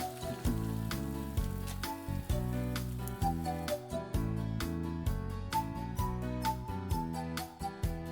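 Buldak spicy fried noodles sizzle in a pan, a continuous crackling fry under upbeat background music with rhythmic accents, no talking.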